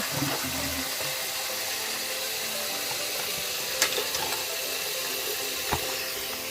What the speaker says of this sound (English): And I like to fill it up a little bit with the stopper.